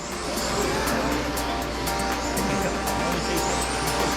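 Touring car racing engines roar steadily through the final laps of a race, a continuous loud in-car drone with wind and road noise and no talking.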